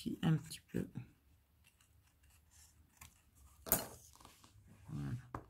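Scissors snip through paper scraps while assembling a beginner photo album, a few short crisp cuts near the start and another sharp snip midway, with someone talking between them.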